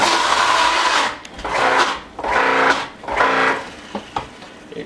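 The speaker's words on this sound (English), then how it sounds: "you just fill up the machine and you start to grate the yuca." An electric grating machine shreds pieces of yuca for pasteles in loud, rough whirring bursts. Four long runs are separated by brief pauses, then a few short pulses follow, all close and with no talking.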